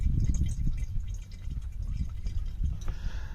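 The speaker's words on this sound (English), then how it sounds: "Well, we are still trying to drain fuel out." Fuel drains from a tank, trickling and dripping in an uneven stream close by, with a low sloshing rumble under the steady splatter.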